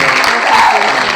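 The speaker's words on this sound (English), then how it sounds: "Let's give a round of applause here." A loud, dense wash of applause from a crowd, cheering for Coach Knight, fills a brief moment with steady clapping noise throughout.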